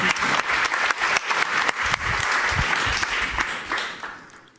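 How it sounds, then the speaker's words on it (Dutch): Warm applause from an audience at a talk event, dense clapping filling the room for several seconds and fading toward the end, with no voices over it. "geef er een warm applaus"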